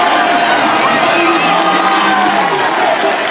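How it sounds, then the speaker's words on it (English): Roadside crowd at a Tour de France time trial cheers and shouts continuously, a loud, dense wash of voices with whoops rising above it. "and the cheers."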